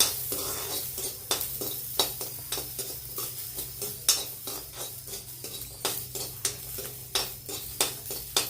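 Garlic and ginger roast in a little oil in a pan for katachi amti, with a soft, steady sizzle broken by repeated sharp scrapes and clinks of a utensil stirring against the pan, close by.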